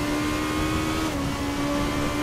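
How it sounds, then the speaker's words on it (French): A Formula race car engine in the RaceRoom racing game at the Hungaroring holds a steady high-pitched whine, briefly dipping and rising again as the car works through a hairpin. "La voiture, on l'entend, hein, qui sautille beaucoup dans l'épingle."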